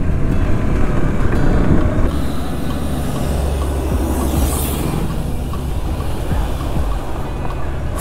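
Train rumbling past close by, a loud continuous roar of rolling wagons that stays heavy for the whole stretch.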